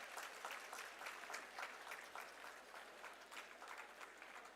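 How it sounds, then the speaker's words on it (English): Sustained applause from a hall of school students at a meritorious students' felicitation function, a steady, dense wash of clapping at moderate distance with no talk over it. "can we have a louder round of applause for sir standing?"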